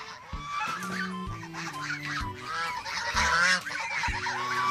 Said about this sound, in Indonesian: ini ada induk angsa